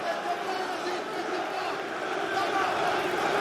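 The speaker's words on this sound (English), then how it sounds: "You can hear the French crowd getting behind their local fighter here" Large French crowd at a PFL Europe MMA event in Paris cheering on a local fighter, a steady, dense roar of voices that swells slightly toward the end, with a commentator's voice mixed in.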